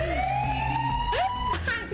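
A police car siren wails with a rising and falling tone, moderately loud over faint background noise.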